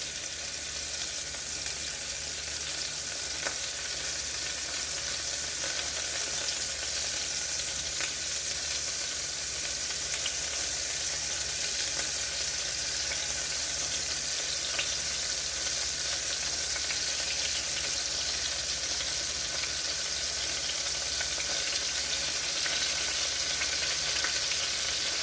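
Pork chunks for masitas de puerco sizzle and crackle steadily as they fry in a pan, a dense, continuous hiss holding at an even level for the whole stretch with no talking.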